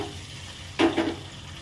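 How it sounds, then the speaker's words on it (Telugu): Eggs roasting in hot oil in a pan, with a soft background sizzle broken by a couple of brief, louder sizzling bursts close to the pan. "ఇట్లాగా ఆయిల్లో రోస్ట్ బాగా మంచిగా రోస్ట్ చేసుకోవాలండి ఎగ్స్ని మంచి కలర్ రావాలి అంతవరకు"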